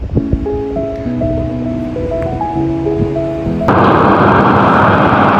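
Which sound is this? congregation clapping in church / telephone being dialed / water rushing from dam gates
water rushing from dam gates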